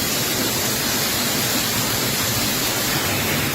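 Hail beats on a fibre roof in Punjab, a loud, constant wash of rapid impacts that blend into one heavy roar with no pause and no speech.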